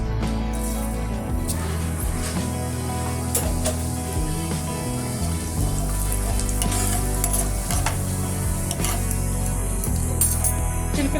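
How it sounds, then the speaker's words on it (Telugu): Fenugreek and cumin seeds frying in hot oil for a fish pulusu, a steady close sizzle with intermittent stirring scrapes and utensil clinks throughout. "మెంతులు ఫ్రై అయ్యి ఇప్పుడు మనం జీలకర్ర వేసుకుందాం"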